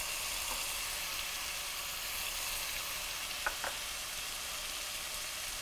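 Persian green bean stew with oil sizzles and fries steadily in a pan as spices are added, a constant hiss with a couple of faint clinks of stirring and no talk.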